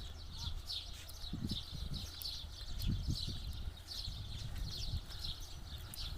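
Small birds chirp in the trees of a rural area shortly before sunset, with a repeated bright twittering call overhead and low thudding, hoof-like sounds beneath it.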